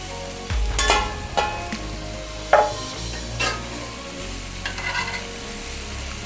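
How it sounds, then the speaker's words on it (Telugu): Soft paneer pieces are stirred slowly into egg fried rice in a hot pan, giving scraping spoon strokes and light clatters over a steady low sizzle, with no talking. "కొంచెం విరగకుండా జాగ్రత్తగా డెలికేట్గా ఉంటాయి కదండి, కలపండి, స్లోగా కలపండి."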